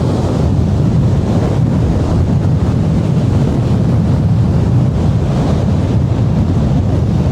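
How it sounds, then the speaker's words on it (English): Ocean waves surge continuously with a loud, dense roar, mixed with wind rushing across the microphone; no voices. "Just look at those waves."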